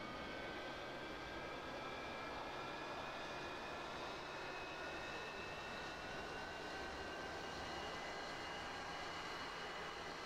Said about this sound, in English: Let's go ahead and fire the right engine up.